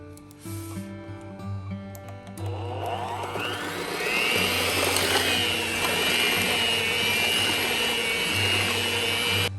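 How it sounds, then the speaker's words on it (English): A hand mixer churns steamed Christmas pudding batter in a big bowl, a steady loud whirring drone that starts low and rises into a dense, continuous buzz after a couple of seconds. "I've just finished kind of incorporating everything as good as I can with a hand mixer"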